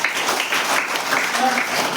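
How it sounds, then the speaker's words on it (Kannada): Children clapping together in a classroom during a fruit song lesson, a short steady patter of many small hands, with faint voices mixed in. "ವೆರಿ ಗುಡ್, ಚಪ್ಪಾಳೆ ಹಾಕಿದ್ರು"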